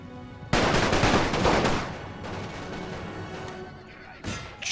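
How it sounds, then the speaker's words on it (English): Gunfire in The Great War 6.0 video game, a sudden dense volley of many rifle shots crackling together, thinning into scattered reports and then a final burst, under a faint distant din. "Fire at will."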